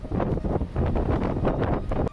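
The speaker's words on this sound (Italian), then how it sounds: "c'è un sacco di vento e pioggia" Strong wind gusts buffet outdoors in a storm near Cork, a rough, fluttering roar close to the microphone that rises and falls in bursts over two seconds, with no voices.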